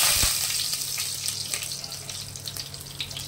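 Whole spices (cinnamon, two cardamom pods, a dried red chilli and a bay leaf) sizzle in hot ghee during tempering, a continuous close, hissing crackle that fades slightly over a few seconds.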